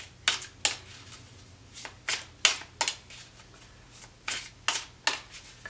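Tarot cards shuffled and drawn by hand, a series of about a dozen crisp, close riffling snaps at an irregular rhythm over a quiet background hum.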